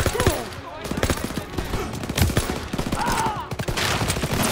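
Dense, continuous gunfire in a Call of Duty WW2 campaign battle, overlapping rifle and machine-gun shots with some voices shouting beneath the fusillade.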